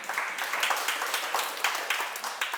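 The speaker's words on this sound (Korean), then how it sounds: "박수 한번 주세요" An audience claps briefly in a hall during a Buddhist teaching session, fairly faint, brisk scattered applause lasting a couple of seconds, with no talking over it.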